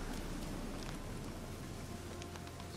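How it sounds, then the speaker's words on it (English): Rain falls steadily in Witcher 3, a faint, even wash of patter with scattered drop ticks, continuous and unbroken throughout. "This rain just lasts forever, doesn't it?"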